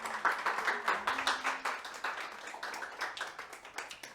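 A small audience at a stage hypnosis show gives a round of applause, with close, rapid overlapping claps that stay fairly even for a few seconds before tapering slightly.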